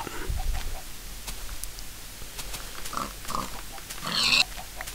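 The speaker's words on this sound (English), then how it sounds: "I can't allow a pig to die by a creeper's hand" Pig oinking in Minecraft, a few short grunts among scattered game sounds and footsteps, moderately close, with a brighter burst of game noise near the end.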